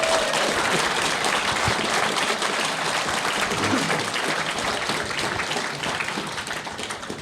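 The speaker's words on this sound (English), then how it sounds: "please just give a round of applause to our audience" An audience at a live retro gaming podcast event gives sustained applause, a thick continuous patter of clapping that slowly tapers off toward the end.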